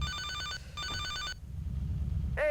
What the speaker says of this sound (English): So because we are mad now at Vincenzo, it's time to talk to him through the phone